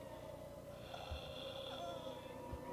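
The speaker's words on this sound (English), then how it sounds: "We've got breathing." Slow, raspy breathing from the video game P.T. on PS4 sounds faintly over a low, steady ambient drone with a soft tonal hum.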